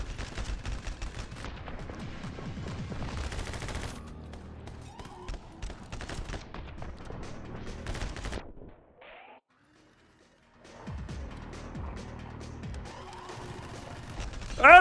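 Dense rapid gunfire from the side-scrolling action game My Friend Pedro, loud bursts of shots and crashes running almost continuously, dropping out briefly in the middle before resuming with a sharp final blast.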